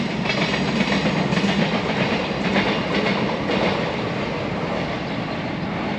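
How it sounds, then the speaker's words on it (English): A train on the Dawlish to Exeter line passes nearby with a loud, steady rumble and rhythmic clatter of wheels over the rails, fading slightly toward the end. "Dawlish to Exeter train again, it's always late."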